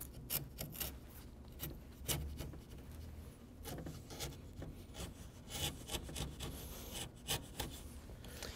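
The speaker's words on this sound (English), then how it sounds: "I'm going to clean up the recess with my chisel" A sharp chisel pares across the grain of wood to clean up a rabbet recess, giving a run of quiet, close scraping and rasping strokes in an irregular rhythm with no talking.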